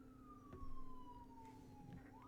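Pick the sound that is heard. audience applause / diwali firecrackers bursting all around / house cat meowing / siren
siren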